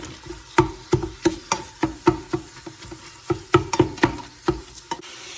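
Onion and garlic sautéing in an Instant Pot, heard as a close series of regular scraping, knocking strokes of a utensil stirring against the pot, over a low sizzle, with no talk.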